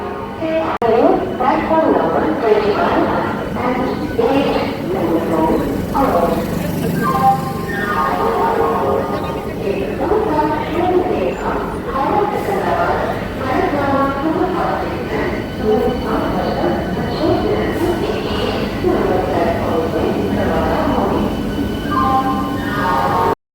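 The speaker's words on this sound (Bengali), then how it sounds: "আমাদের ট্রেন নির্ধারিত সময়ে কিন্তু ছেড়ে দিল একদম রাইট টাইমে ট্রেন ছেড়েছে" A Howrah–Panskura local train pulls out, its carriages rumbling and clattering steadily up close, with someone talking over the running noise throughout.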